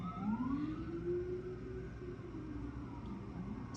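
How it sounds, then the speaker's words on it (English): A distant siren wails with a rising and falling pitch, faint beneath low traffic rumble and steady background hum. "sorry if you hear those sirens."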